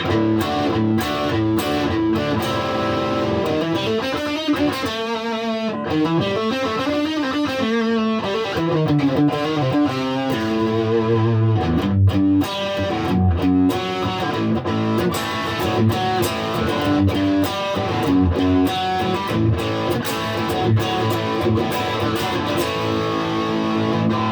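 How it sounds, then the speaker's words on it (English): An electric guitar through a Xotic BB Preamp AT overdrive pedal, gain at 3 o'clock, plays chords and riffs continuously, its tone thick and gritty with sustained, saturated notes. "That gain, that distortion, if you want to call it distortion, that's beautiful."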